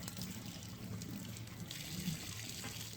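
Tap water runs steadily while a small sand flea crab is rinsed out and cleaned, a continuous close splashing gush with no break.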